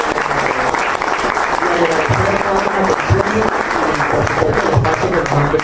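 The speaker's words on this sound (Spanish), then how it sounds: "yo de verdad quiero pedir un aplauso al pueblo palestino" Loud, continuous applause fills a hall at a forum on Palestine and Lebanon, holding steady for several seconds with voices murmuring and calling out beneath it.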